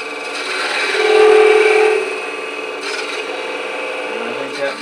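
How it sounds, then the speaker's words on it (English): A box scraper shaves a very slight taper onto a wooden piece, producing a close, dry rasping scrape that swells in the first couple of seconds and then continues in lighter strokes. "I'm going to use my box scraper just to put a very slight taper on this."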